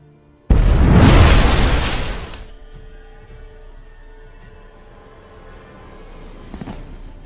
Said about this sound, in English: Damn it, explosion triggered that fight.